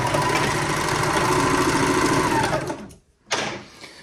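A serger overlock machine stitches a T-shirt seam in a loud, steady close-up whir, then stops abruptly and starts again briefly after a short silence.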